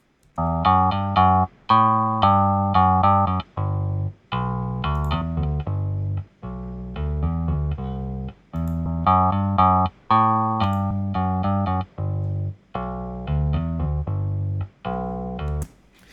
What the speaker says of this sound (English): this is what the bass sounds like without the plugin, and I'll turn it on and off